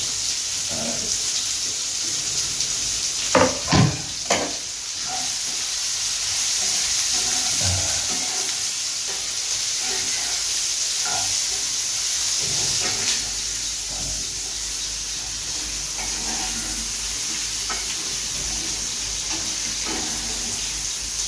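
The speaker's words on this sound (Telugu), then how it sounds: "ఉల్లిపాయలు వేసేస్తున్నాను, పడుగు ఉల్లిపాయ" Onions for a potato fry sizzle steadily in hot oil in a pan, a continuous quiet hiss with a few louder clatters and stirring knocks early on, heard up close.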